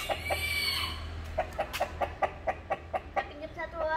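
A chicken, a Bangkok fowl, clucks in a quick series of short, close calls, with a low hum and some faint voices in the background.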